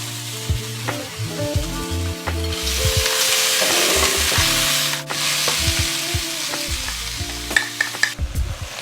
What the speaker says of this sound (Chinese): 它能保持住你下去海鲜下去是个爆炒的 这个环节啊，非常香。